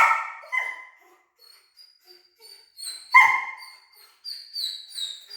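A young puppy during a training session yelps and barks in short, high-pitched bursts with whimpering between them. The calls are close and sharp, separated by brief quiet gaps.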